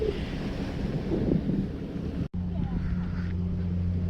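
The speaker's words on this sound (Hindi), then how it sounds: "यहाँ पे बहुत खूबसूरत पानी का शोर" Water washing and lapping at a busy port on Coney Island where boats are moving, a steady loud rush blended with wind buffeting the microphone and a low motor hum.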